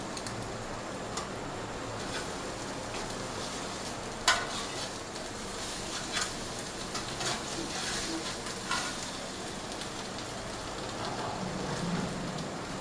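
An omelette fries in a pan with a steady, soft crackling sizzle that runs throughout, broken by a few faint ticks and taps. No voices are heard.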